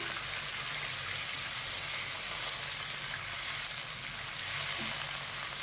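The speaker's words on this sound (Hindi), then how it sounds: "इस नमक के साथ हम चिकन को फ्राई कर लेंगे" Loud, steady sizzling of chicken frying in hot oil with salt and ginger garlic paste for Afghani chicken karahi, continuous and close, with faint stirring, no voices.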